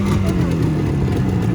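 A Yamaha RD350 HT motorcycle engine, loud and close, with a steady droning two-stroke tone over a short stretch as the bike passes.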